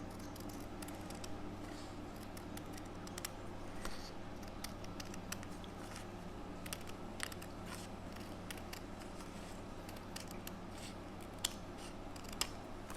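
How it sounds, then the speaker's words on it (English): Scissors trim a narrow strip off a paper belly band, making faint, close snips and small clicks in an irregular run against a steady low hum. "I'm just going to trim this little edge off right here."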